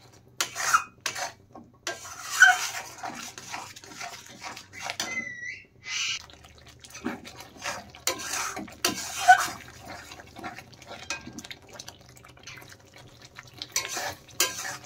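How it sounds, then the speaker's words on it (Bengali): Spices with ground coriander and chili being stirred in a pan, intermittent scraping and rubbing of a spoon against the pan with soft sizzling between strokes, fairly faint and close. "এখন ভালোভাবে মশলা আমি কষিয়ে নেব।"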